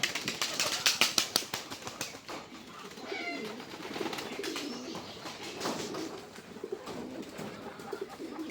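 Pigeons in a backyard loft with females landing: steady cooing from several birds, a quick flurry of wing flaps and light knocking at the start, close by and continuous, with no voices.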